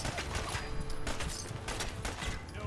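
Covering gunfire in the video game Fallout 4, a dense, continuous fusillade of overlapping shots crackling without pause for a few seconds, loud and busy.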